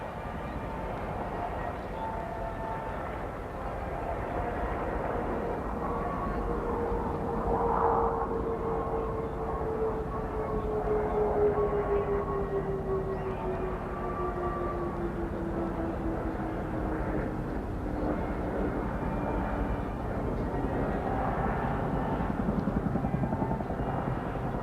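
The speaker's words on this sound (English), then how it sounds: "Discovery now rolling out onto final." Space Shuttle Discovery rolls out on the runway after landing, a distant steady roar with a slowly falling tonal whine, heard alone without talk.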